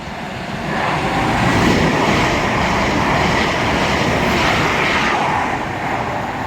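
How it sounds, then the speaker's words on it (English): An Edinburgh to Glasgow passenger train passes through Edinburgh Park station at speed, a loud, steady rushing roar that swells in the first second and holds without a break before easing slightly at the end. "the first train of the day looks to be a passing E2G"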